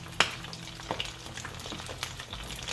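Chicken and dressing balls frying in oil, a soft continuous crackle broken by sharp pops and spatters, close by and fairly quiet, with no voices.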